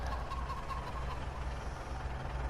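Chicken coop in Farming Simulator 19 holding 100 hens, its fowl clucking and gobbling steadily over a low engine-like drone, a dense continuous flock chorus at moderate level.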